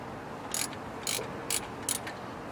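Four short ratchet bursts sound at a steady pace as a socket wrench works the alternator bolt loose in a car cooling-system overhaul, each click run close and crisp over a quiet background.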